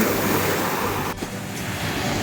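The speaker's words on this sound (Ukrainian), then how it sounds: "Але які ж красиві ці хвилі." Surf on an Odesa beach rolls in as a continuous broad wash with wind rumbling against the microphone, one brief gust dropping out midway before the steady roar resumes.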